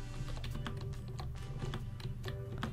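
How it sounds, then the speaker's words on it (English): Rapid clicking keystrokes on a computer keyboard during a Roblox game, a dense, quick patter of taps heard close but fairly quiet over a low background hum, with no talk. "I was typing! I was typing!"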